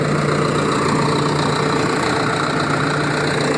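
A Caterpillar D7E bulldozer engine runs steadily at idle with its cooling fan blowing, a loud continuous drone with a low hum and broadband roar, close up and with no talking.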